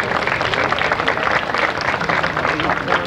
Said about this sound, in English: A big round of applause for Pat Dando.